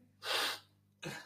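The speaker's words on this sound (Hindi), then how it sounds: "खबरदार जो तुमने आइंदा से छींक मारी" Someone sneezes loudly, a sharp breathy burst followed by a second shorter snort-like sneeze close to the mic, heard alone in a quiet room in an old 1970s PTV comedy.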